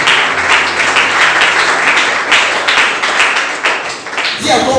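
A church congregation applauds loudly and continuously, dense close clapping with raised voices and cheers mixed in throughout.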